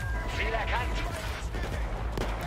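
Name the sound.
gunfire in the video game Battlefield 4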